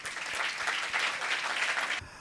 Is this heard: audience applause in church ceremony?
yes